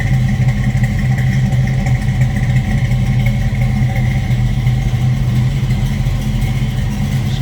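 1966 Ford Mustang coupe with a 289 V8 idling, heard from behind the car as a steady, loud, rumbling low drone with an even, lumpy pulse and no revving.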